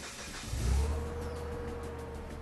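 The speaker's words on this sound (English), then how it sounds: "Start the forklift." A forklift engine cranks and catches, rising to a low rumbling idle that settles into a steady hum, moderately quiet and without voices.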